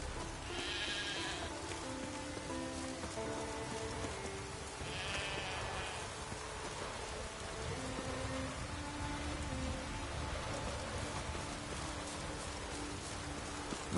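Steady rainfall in the video game The Witcher 3, with nearby sheep giving several distinct bleats over the constant patter of the rain.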